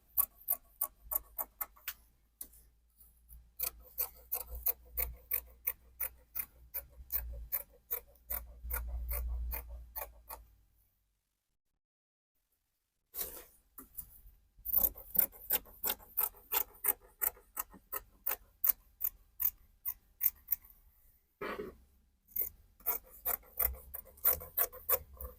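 Fabric for an asymmetric-neckline kimono bubu dress is cut with crisp, rapid snips in a steady rhythm. The cutting pauses briefly midway, then resumes; no one speaks.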